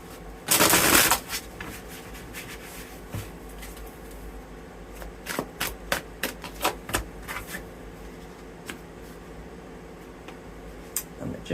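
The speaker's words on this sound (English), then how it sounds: "Get one more shuffle." Tarot cards are shuffled in a quiet room: a brief loud riffle near the start, then a run of soft taps and flicks as the deck is squared and handled, close and fairly faint.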